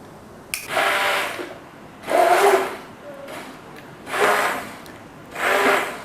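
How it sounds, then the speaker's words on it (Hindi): A kitchen blender grinds chana dal for haleem, with four loud whirring bursts of roughly a second each separated by short pauses, close and clear with no talk over it. "ये है चने की दाल और इसे अब हम करते हैं इसमें ब्लेंड।"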